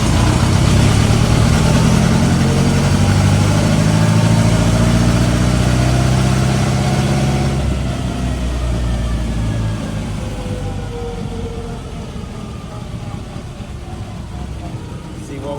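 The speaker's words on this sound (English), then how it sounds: "we're gonna do our dyno pull on this hot rod" A Ford Model T hot rod engine roars steadily on a dynamometer during a pull, loud and close at first, then the pitch and volume settle lower as the run winds down.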